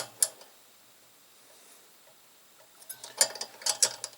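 A wrench loosens the rocker arm adjuster on a 1955 Panhard Dyna Z1 engine, giving a faint metallic click at the start and then a quick run of soft ratcheting clicks near the end, heard close and with no voices.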